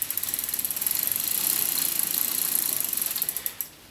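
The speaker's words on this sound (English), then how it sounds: "I'll take the bike out and run it through its cogs" A bicycle chain spins through the front and rear cogs, giving a fast, even ticking ratchet-like whir up close that runs steadily for several seconds and then slows and fades out.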